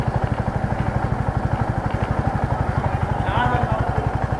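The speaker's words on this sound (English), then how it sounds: "and the bike is moving a little faster now" Motorcycle riding in third gear, its engine giving a steady, fast pulsing throb close to the microphone that continues evenly throughout, with a slight rise near the end.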